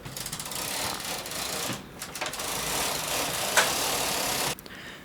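A knitting machine carriage sweeps across a row of a vest in progress, giving a steady, loud mechanical whirr and rattle that breaks briefly near the middle, then resumes and cuts off abruptly near the end.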